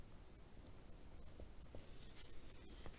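A pencil scratches on paper in quiet, soft strokes, faint and close, with light rustling.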